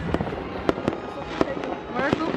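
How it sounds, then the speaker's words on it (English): New Year's Eve fireworks exploding outdoors near a hilltop, several sharp loud bangs in quick irregular succession with crackling between bursts and faint background voices. "we're going upstairs to watch the fireworks"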